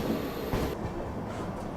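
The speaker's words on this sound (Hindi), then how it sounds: "दोनों ट्रेन बराबर भाई अराइवल ले रही है कानपुर सेंट्रल रेलवे स्टेशन पे" Trains arriving at Kanpur Central railway station before dawn, a brief dense rumble of rolling stock with a sharp clank partway through, heard fairly close without speech.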